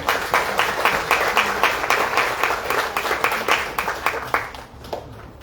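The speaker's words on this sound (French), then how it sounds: "Sous vos applaudissements, s'il vous plaît." An audience at an official opening ceremony for Indigenous Peoples' Day in Matoury claps steadily, a dense, even patter of many hands sustained throughout before thinning slightly at the end.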